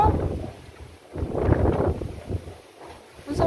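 Strong wind gusting around a boat with a tarp overhead, rising and falling in gusts with blustery buffeting against the microphone.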